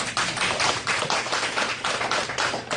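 An audience at a product training session claps steadily for the company head, a dense, even burst of many hands close by, lasting a few seconds without talking.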